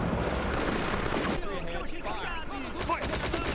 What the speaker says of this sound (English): they have a lot of machine guns. You can hear some of their popping sounds